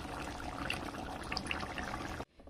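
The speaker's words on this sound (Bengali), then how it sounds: "থালার মধ্যে পুরো ঢেলে নিয়েছি" Cooked eggplant and egg curry is poured from a pan onto a plate, making a wet, sloshing, trickling pour that runs steadily for about two seconds and then stops abruptly, with no talking.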